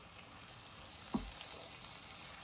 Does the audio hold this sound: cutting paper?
no